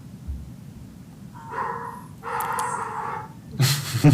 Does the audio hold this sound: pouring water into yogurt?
no